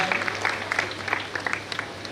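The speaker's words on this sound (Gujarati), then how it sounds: "જોરદાર તાળીઓથી વધાવીએ" Applause from the audience at a community Saraswati honour ceremony: dense, steady clapping lasts throughout at moderate volume, with faint voices underneath.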